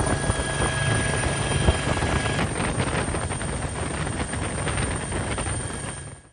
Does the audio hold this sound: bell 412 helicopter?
yes